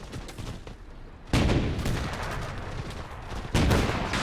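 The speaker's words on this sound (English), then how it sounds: "Mortar's still firing." Mortar and artillery fire in the video game Gates of Hell, set in a 1941 Soviet last-stand defense outside Moscow: two loud, heavy blasts about two seconds apart, each followed by a rumbling battle din with no talk.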